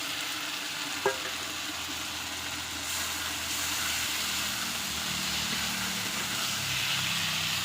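Fried fish and potatoes sauté in spices, giving a dense, continuous sizzle that fills the whole stretch, with one sharp utensil knock early on and a faint hum beneath.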